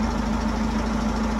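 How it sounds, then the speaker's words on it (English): An old engine, just started, runs at a steady idle with a loud, even rumble and a constant low hum and slight knocking vibration, close and alone. "I've got an engine running."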